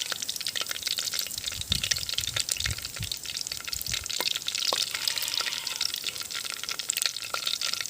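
Curry leaves fry in hot oil with whole spices for goat intestine gravy, a loud, continuous crackling sizzle with spattering pops and some stirring, close up and with no talk.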